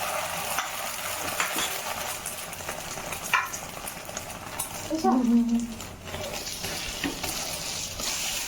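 Egg frying in oil in a wok for an egg roll, a continuous sizzle with occasional scraping and clinks of a utensil and pan, close up, with a brief tonal squeak midway.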